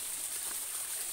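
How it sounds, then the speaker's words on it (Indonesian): Water spilling down Patih Mambang waterfall, a low-volume flow after scant rainfall, gives a steady, soft hiss and trickle that holds even throughout with no voices over it. "suara disiram air."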